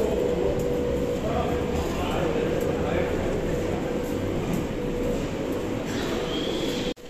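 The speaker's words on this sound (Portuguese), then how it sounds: "Aqui estamos dentro da estação de trem" Inside a Berlin train station, a steady low rumble and hum of rail machinery and ventilation fills the space, with faint distant clanks and a brief tonal squeal, ending abruptly.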